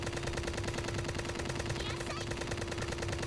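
Rapid automatic gunfire in a VR video game, a dense continuous burst of shots running loud throughout, with a voice faintly mixed beneath.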